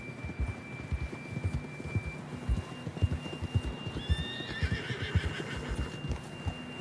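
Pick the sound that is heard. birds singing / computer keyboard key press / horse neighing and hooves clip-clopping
horse neighing and hooves clip-clopping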